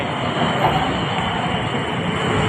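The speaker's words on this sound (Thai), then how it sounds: "เดินทางมาด้วยรถไฟ" A train carries passengers toward the Chedi fair at Paknam, a steady loud rolling rumble of carriages on rails with a continuous hiss throughout.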